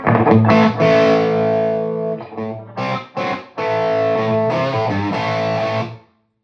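Les Paul electric guitar through a Komet MK80 tube amp with an attenuator, no pedals, heavy high-gain distortion playing sustained chords and short bursts with brief gaps, loud and close, ringing out at the end.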